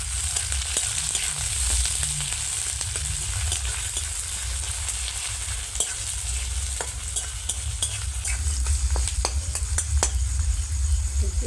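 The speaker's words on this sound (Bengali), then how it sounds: "পেঁয়াজটাকে ভালো করে ভেজে নেব।" Chopped onion with dried red chilli, cardamom and green chilli frying in hot oil makes a loud, continuous sizzle, with scraping stirring strokes cutting through it again and again.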